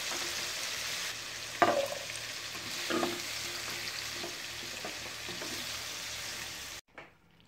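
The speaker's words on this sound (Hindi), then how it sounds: "गाजर भी हमारी फ्राई हो गई है" Carrots fry in oil in a pan with a steady, close sizzle. A couple of sharp stirring knocks break through before the frying cuts off abruptly near the end.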